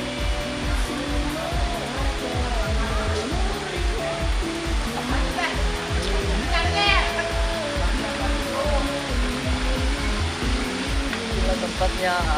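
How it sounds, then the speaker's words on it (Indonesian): At the Lejja hot springs, a waterfall roars as a constant broadband rush, with people talking nearby over it throughout. "jadi kita mau naik ke sana di air terjun"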